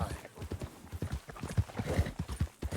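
A horse's hooves clip-clop in Red Dead Redemption II, a close, steady, rhythmic trot that continues throughout, with voices talking over it.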